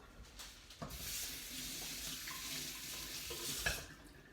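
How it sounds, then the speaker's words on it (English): Kitchen tap running steadily as hands are rinsed under it, a continuous close splashing hiss with a few clunks and brief louder splashes, no talking. "I'm just going to rinse my hands up a little bit."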